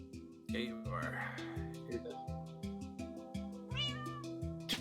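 Cat meowing repeatedly over loud background music with a steady beat, the cries rising and falling in a series of drawn-out calls during a Minecraft podcast session.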